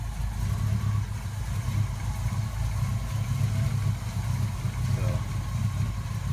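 A 1979 Chevy truck engine running at a steady idle, a continuous low, rumbling drone that holds an even, unbroken level throughout.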